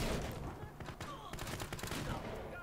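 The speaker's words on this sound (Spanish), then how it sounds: "me están cagando a tiros" Rapid bursts of gunfire in the video game Battlefield Hardline, dense fusillade-like shots crackling throughout, fairly quiet overall, with a voice talking over it.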